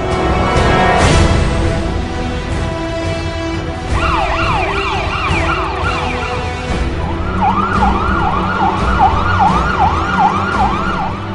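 A KEM 108 ambulance of the Kerala Emergency Medical Services wails loudly nearby, its siren shifting from one warbling pattern to a faster repeating whoop over traffic noise.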